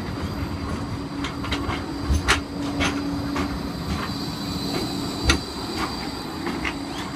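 A long G-Link light-rail tram pulls away from Broadbeach South station with a steady rumble, wheel clicks over rail joints and a faint squeal, loud and continuous with no one speaking.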